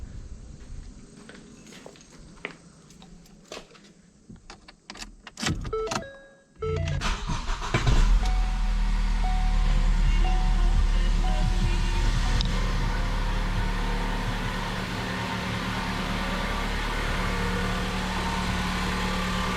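A 2011-2014 Ford Focus engine cranks and catches after several clicks and clunks, then settles into a loud, steady idle that fills the rest of the recording.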